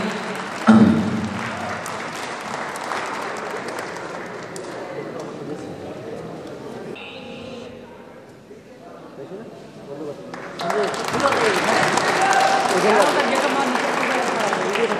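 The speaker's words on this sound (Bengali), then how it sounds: "জোরে একটা করতালি হয়ে যাক।" Applause from a college social audience fills the room, loud and continuous, dipping briefly in the middle before swelling again, with crowd noise mixed in.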